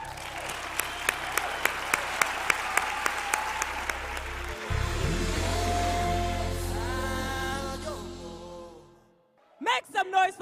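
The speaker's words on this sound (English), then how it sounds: "give yourself a round of applause." A business roadshow crowd applauds over a regular rhythmic beat and amplified voices; the clapping swells, holds for several seconds, then drops away before a burst of further sound.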